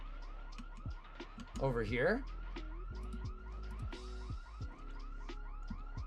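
Car alarm going off in the zombie video game Ghouls' Apocalypse, its looping rising and falling electronic whoops repeating steadily at mid distance, with someone briefly speaking over it.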